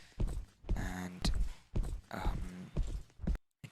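A horse in a Roblox game gives short bursts of clip-clopping hooves mixed with whinny-like calls, close and moderately loud, broken by brief silent gaps.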